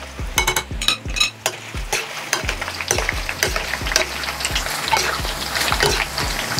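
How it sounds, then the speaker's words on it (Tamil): Chana dal pakoda deep-frying in hot oil gives a steady, crackling sizzle under repeated sharp scrapes and taps as the fritters are stirred, all close up and fairly loud, with no talking. "நல்லா முறு முறண்டு பொறிச்சு"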